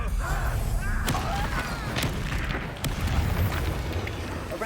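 Fiery blast of the Confringo explosive spell in a wizard video game, a rumbling burst with crackling debris layered over busy game ambience, with a voice briefly present.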